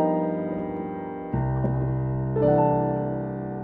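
A jazzy 2-5-1 chord progression is played on a keyboard as three sustained voiced chords struck one after another, each ringing clearly before the next.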